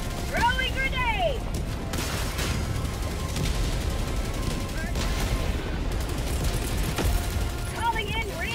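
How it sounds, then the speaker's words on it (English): Continuous gunfire and explosion booms from the video game Helldivers 2 fill the scene densely and loudly, with a grenade blast among the steady rattle of shots and short electronic chirps. "Throwing grenade."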